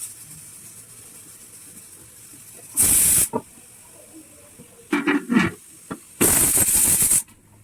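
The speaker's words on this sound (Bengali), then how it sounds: "প্রেশারের সিটি করে গেছে তাই চলো ভাতটা নামিয়ে নিই" A pressure cooker cooking rice lets out two loud, sharp steam whistles, each about half a second to a second long, with short hissy bursts between them over a quiet kitchen background.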